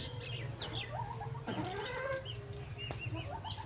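Chickens cluck and chicks chirp up close, the chicks kept in a biscuit carton; a run of throaty clucks overlaps with high, rising peeps over a low background hum.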